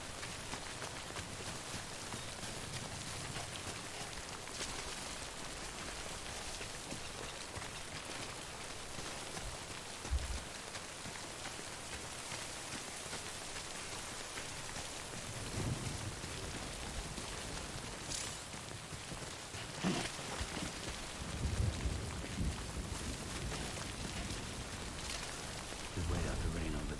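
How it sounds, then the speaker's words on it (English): Steady, soft rain hisses in a video game, with a few dull low rumbles of thunder rolling under it now and then. "Just wait out the rain over there."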